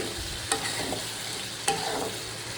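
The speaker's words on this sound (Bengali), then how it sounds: "মশলা যেবার তেল ছেড়ে দিয়েছে এর মধ্যে ক্যাপসিকামটা দিয়ে দেবো" Capsicum cooks among spices in hot oil with a constant, close sizzle, while a spoon knocks the pan twice as it is stirred.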